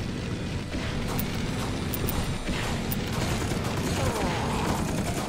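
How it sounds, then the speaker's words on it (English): An automated turret in the game Dead Sky fires a steady, rapid mechanical stream of shots, loud and continuous throughout with a ratcheting clatter and faint high clicks on top. "Thank you, turret, for saving my ass."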